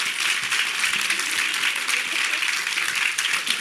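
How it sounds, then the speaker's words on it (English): Audience applause for panelists at a women's forum, a dense steady wash of clapping from a large crowd filling the whole stretch at an even level. "Could I ask for a round of applause for our panelists?"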